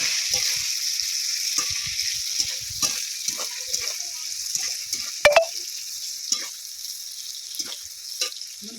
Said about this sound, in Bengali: এবারে তেলের মধ্যে দিয়ে পেঁয়াজগুলো খুব সুন্দর করে ভেজে নেব